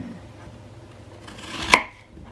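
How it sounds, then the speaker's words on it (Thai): A knife cuts peeled apples into small cubes for an apple cake, a single sharp close chop on a board standing out after a quieter stretch of faint handling. "จากนั้นเราจะมาหั่นนะคะหั่น หั่น"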